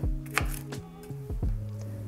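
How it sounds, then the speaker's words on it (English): A knife roughly chopping nuts on a board gives about half a dozen sharp, close taps at an uneven pace, with steady tonal music playing underneath. "using a knife I just chopped those up kind of roughly"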